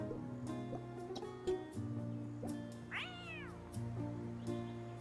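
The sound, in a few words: kitten meowing in Chicory video game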